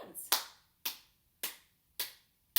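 Children clap their hands during a Simon Says game, five sharp separate claps spaced at an even rhythm, close and distinct with silence between.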